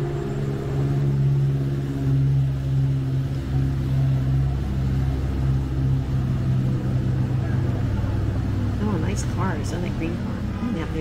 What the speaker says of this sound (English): This three-wheeled motorbike going by.